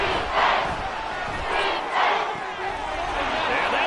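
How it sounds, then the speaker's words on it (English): A stadium crowd roars in a Madden football video game, a loud, broad wash of cheering that swells and dips in waves under faint commentary. "This crowd doing all they can."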